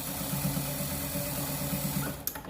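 A sewing machine stitches a fabric face mask, a rapid, even mechanical chatter of needle strokes running steadily nearby before stopping with a short clatter at the end.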